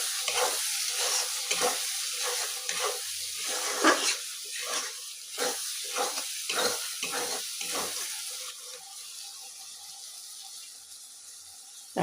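Ground spice masala frying in a pan while being stirred for chakuli mutton curry, rhythmic scraping strokes over a steady sizzle, close, with the stirring fading into a quieter simmer toward the end.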